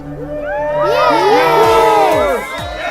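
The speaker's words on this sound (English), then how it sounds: "Bellowed the crowd as one, jubilant that the war was over." A crowd in the city of Troy cheers jubilantly in unison, with loud shouts and whoops that rise, hold for about two seconds, then fade.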